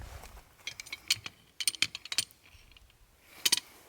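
A big crescent wrench works a fitting past bad threads on a Wood Mizer sawmill, producing irregular clusters of sharp metallic clicks and clanks, close and fairly loud, with short quiet gaps between.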